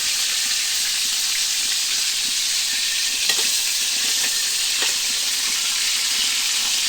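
Shrimp fried in a pan over an outdoor cooking fire, a continuous bright sizzle with steady hiss and occasional soft stirring clicks, close and loud with no talk.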